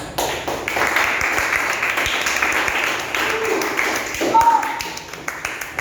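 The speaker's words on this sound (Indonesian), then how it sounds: "Oke, tepuk tangan." A secondary school informatics class claps together, with a thick wash of applause and sharper hand taps that run for about four seconds before thinning out, followed by a brief tonal ping.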